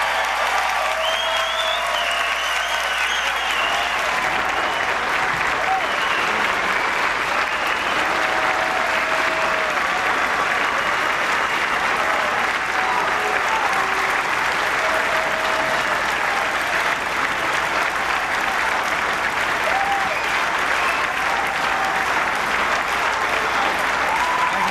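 A large CPAC audience claps and cheers loudly and continuously, a dense roar of applause with scattered whoops that holds at full strength throughout.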